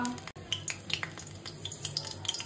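A dried red chili hits hot mustard oil in a pan, giving a close, crackling sizzle with scattered sharp pops and spits over a couple of seconds. No one speaks over it.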